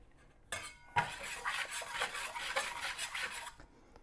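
A whisk rasps and scrapes as flour is worked into melted butter in a pan. The stirring is steady and close, with faint clinks against the pan, and it stops after a few seconds.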